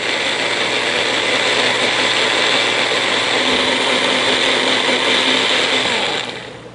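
A Magic Bullet blender whirs loud and steady as it purées cashew cream, with a grinding mechanical hum that holds for several seconds and then winds down at the end.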